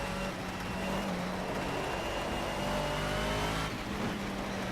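A Mercedes 190E engine drones steadily in the Project CARS racing game, a continuous mid-level hum that holds a constant pitch and shifts once near the end, with no voices.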